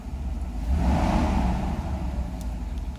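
Mercedes car engine accelerating during an ASR throttle control module test after warming up from a roughly 700 RPM idle; a close, steady rumble swells around the first second, then holds and settles, with no talking.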